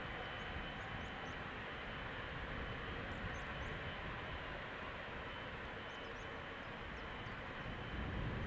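A jet airliner departs Schiphol Airport in Amsterdam on runway 36L, its engines producing a steady broadband roar that holds at an even level throughout, heard continuously from a distance with no talk.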